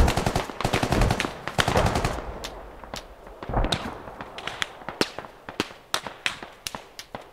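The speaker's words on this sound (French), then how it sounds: "j'ai entendu les coups de feu" Rapid gunfire cracks in quick bursts in a multiplayer squad shooter game, loud at first and then thinning into scattered sharp shots spaced apart.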